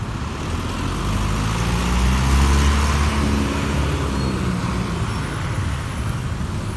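Steady road traffic with cars, a jeep and other vehicles passing, a continuous low rumble that swells midway as a vehicle goes by close, with no talking.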